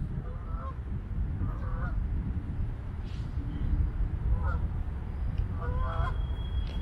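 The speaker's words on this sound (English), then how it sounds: "At least the geese are liking it, huh?" Geese honk at a demolished mall site, several short nasal calls scattered at a moderate distance over steady low wind and traffic rumble.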